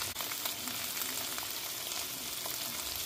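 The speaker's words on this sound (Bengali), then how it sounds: "ডিমটা লাল লাল করে ভেজে নেব।" Eggs fry until browned in oil in a pan, a soft continuous sizzle with faint stirring scrapes, fairly quiet and unbroken for a few seconds.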